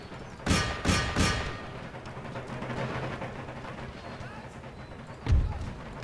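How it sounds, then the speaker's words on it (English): Musket volleys in Empire: Total War boom out as three quick heavy thuds close together, followed by a lull of battlefield rumble and a single further blast near the end. "some wonderful firing in effect here"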